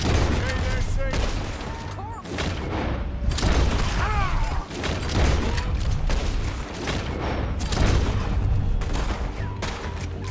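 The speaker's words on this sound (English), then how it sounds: "Told you I could shoot a gun, didn't I?" Gunfire in the video game Red Dead Redemption 2, a shootout of rapid, overlapping shots and volleys that keeps up steadily and loudly, with game voices underneath.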